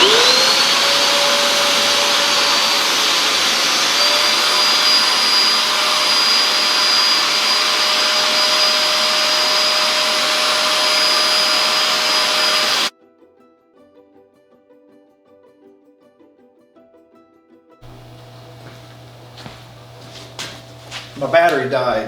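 Bissell SpotClean Pro carpet cleaner running loud and steady on a dirty, muddy rug, a broadband motor roar with a rising whine, cutting off abruptly into near silence before softer handling noises return.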